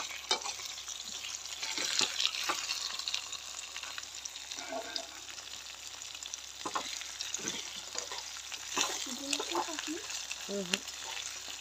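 Herbs simmering in oil in a pan to make an ayurvedic-style hair oil, giving a steady low sizzle and bubbling with occasional stirring clinks, moderately close and alone without talk.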